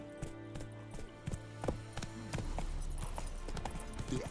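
Roach, Geralt's horse in The Witcher 3, gallops with quick rhythmic hoof clip-clops against a soft, low game background, fairly faint and steady.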